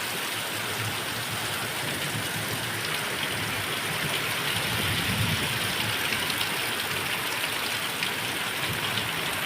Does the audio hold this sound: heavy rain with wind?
yes